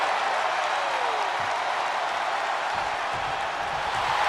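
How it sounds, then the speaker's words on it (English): A virtual arena crowd in WWE 2K25 roars and cheers steadily throughout a triple-threat match between Sheamus, Jey Uso and Damien Priest, forming a dense, continuous wash of noise with no pauses. "The crowd is fired up."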